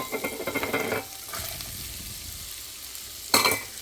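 Vegetables for lentil soup sizzle and brown in a pan, a soft, close frying hiss with a couple of short stirring bursts at the start and the end.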